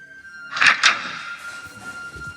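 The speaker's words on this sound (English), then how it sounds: "I heard the bedroom door open." Bedroom door opening at night, two quick knocks or latch clunks followed by a faint lingering creak in a quiet room, close and distinct.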